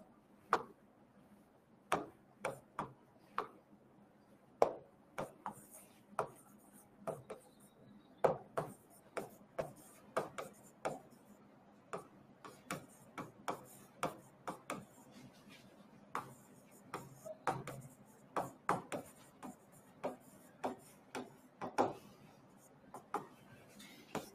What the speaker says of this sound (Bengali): তাহলে এখানে আমি লিখে দিচ্ছি 2 নাম্বার